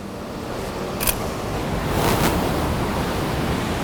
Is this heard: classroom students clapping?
no